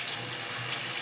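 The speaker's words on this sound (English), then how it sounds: "basically I just put it in a little strainer and I rinse it with cold water" Cold tap water runs through a small strainer of rice being rinsed, a steady close splashing gush that holds unbroken throughout.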